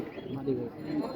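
Pigeon cooing, from a khaki-colored pigeon, rises in short soft coos against steady background chatter and murmuring voices.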